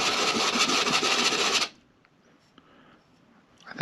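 A homemade metal surface gauge rubbed back and forth on sandpaper for lapping, giving a steady, close, gritty scraping rasp that stops abruptly partway through, leaving near quiet with faint handling noises.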